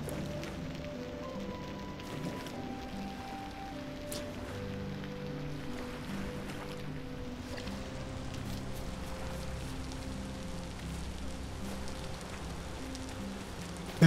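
Gentle, steady rain in the video game Vintage Story hisses quietly throughout while soft, sustained musical tones drift along underneath.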